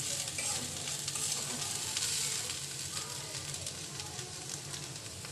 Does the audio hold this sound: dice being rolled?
no